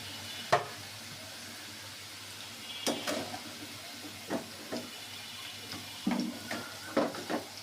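Potatoes frying in hot oil in a home kitchen pan, heard as a soft sizzle with scattered sharper clicks and scrapes from stirring, fairly faint and close, with no talking.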